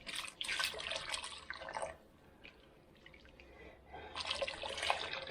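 Liquid pours into a pot of broccoli and cheese soup while it is stirred, a steady splashing trickle in two louder bursts with a quieter stretch between, heard alone with no talk.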